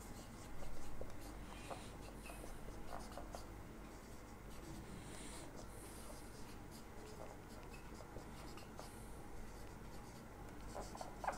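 Chalk or marker scratches across a classroom board as math is written out during a Hindi lecture on definite integrals, a steady run of soft strokes over low room hum with faint, distant voice.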